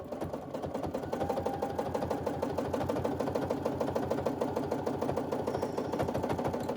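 A Baby Lock Lyric sewing machine runs steadily while free-motion quilting, its needle chattering in a fast, even rhythm throughout, close and continuous with no talk over it.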